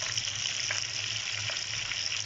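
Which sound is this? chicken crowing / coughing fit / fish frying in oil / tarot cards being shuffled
fish frying in oil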